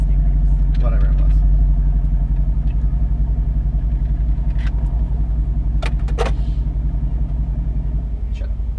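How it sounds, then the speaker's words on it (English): Exhaust of a Mercedes-AMG GT S on a downshift, a loud, deep engine drone with a pulsing burble heard from inside the car, and people talking over it. "Do you have to do that every time you downshift, Kevin?"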